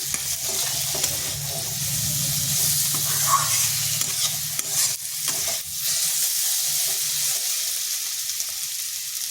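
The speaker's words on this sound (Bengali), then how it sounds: "মশলাটা একটু ভাজা ভাজা করে নিচ্ছি।" Spices sizzle steadily in hot oil in a pan while being stirred, with occasional scraping of a spoon, close and continuous with no talking.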